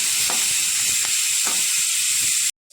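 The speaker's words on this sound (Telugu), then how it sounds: "బీరకాయ ముక్కలు కట్ చేసుకున్న ముక్కలు వేసుకొని వేయించుకోవాలి." Cut ridge gourd pieces fry in a pan with a loud, dense, continuous sizzle close up, while a spoon sweeps through them in a few regular stirring strokes before the sound cuts off abruptly.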